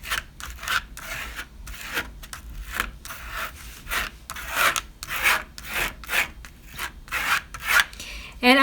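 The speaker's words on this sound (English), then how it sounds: "And as I rub it in, I'm also rubbing it off the top." Palette knife spreading and rubbing crackle texture paste through a stencil, pushed in then scraped off the top, giving a steady series of close, gritty scraping strokes in an uneven rhythm.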